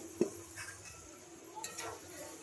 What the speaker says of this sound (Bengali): আমি ঢাকনাটা খুলে দেখে নিচ্ছি